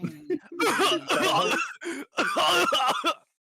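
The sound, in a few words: person imitating a cough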